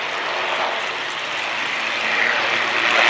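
An Airbus A400M Atlas military transport, a large composite-built turboprop, making a slow pass with its undercarriage down at the RIAT 2014 airshow, giving a steady loud engine roar that swells slightly toward the end, with no talk over it.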